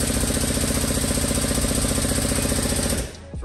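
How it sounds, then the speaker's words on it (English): A pneumatic air tool hammers steadily as it tightens bolts on Jeep shock hoops fitted to a Super Duty JK, a loud, dense continuous rattle close by that cuts off abruptly near the end. "So now I'll just tighten all this up and throw some air at it."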